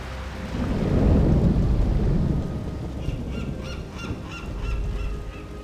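A Warcraft III cutscene thunderstorm: a heavy rolling thunderclap builds and fades over constant rain, followed by a lighter rumble and scattered higher tones near the end.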